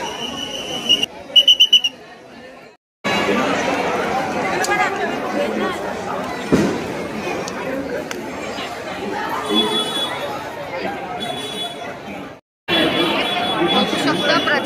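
A huge crowd mills at Lalbaugcha Raja Ganpati in Mumbai, a dense, continuous babble of many voices with whistles in the mix, broken by a couple of short silent cuts.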